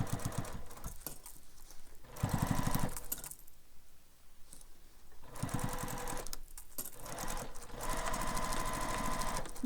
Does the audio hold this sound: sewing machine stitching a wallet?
yes